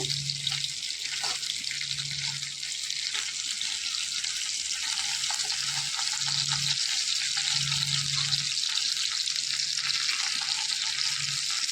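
Small mrigal fish fry in a pan with a soft, continuous sizzle, faint dull clinks and low background hum around it.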